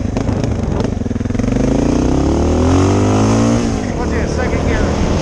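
Honda 650L motorcycle engine running steadily and close, with a rising engine note as it pulls away on the road, a voice talking over it.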